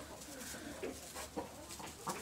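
Ducks in a farm coop give soft, scattered quacks and clucks, faint and fairly close, over a low breathy background.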